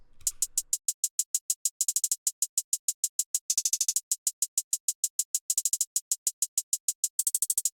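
Crisp electronic hi-hats in a triplet pattern programmed in FL Studio, rapid evenly spaced ticks with periodic quick rolls, dry and bright with nothing else playing.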